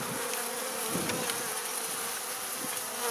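Honey bees buzz around a young, newly introduced queen added to a queenless colony, making a constant, close, fairly quiet hum with a few louder passes nearby.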